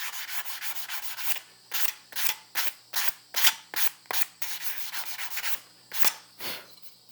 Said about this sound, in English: as you're going over it with your sandpaper